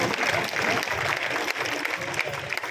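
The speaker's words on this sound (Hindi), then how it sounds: "एक बार हमारे भाई राजेश शर्मा जी के लिए जोरदार ताली।" Applause from an audience at a Shree Shyam devotional jagran, a steady burst of many hands clapping, fairly loud and dense throughout, with no talk over it.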